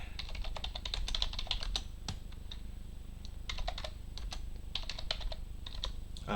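Rapid, uneven keystrokes clatter on a computer keyboard at close range, coming in bursts with short pauses between them, with no one speaking.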